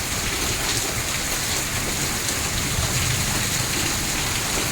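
Hail and heavy rain pour down in Asifabad, a dense, steady hiss of drops drumming on surfaces that holds at the same loud level throughout, with no voices.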